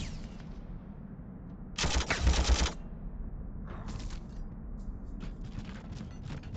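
Rocket troops in the Warhammer 40k Armageddon strategy game fire a loud, rapid burst of gunfire, then lighter scattered crackling shots continue over a low battle rumble, without speech.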